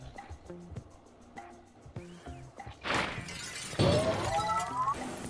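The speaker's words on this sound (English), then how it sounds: "we need to destroy the glass" Glass shatters in the puzzle video game Quantum Conundrum, a sudden bright crash of breaking panes with scattered debris over quiet game music and ambient hum.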